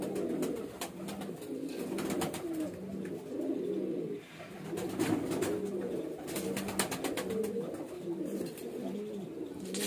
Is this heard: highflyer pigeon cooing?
yes